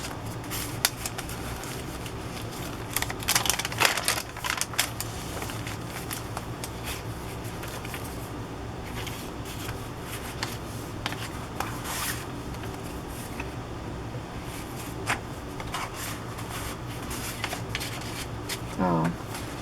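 Pages of a finished handmade sea-themed paper journal flipped one after another, soft papery flutters and rustles with a few sharper page slaps, close and fairly quiet throughout.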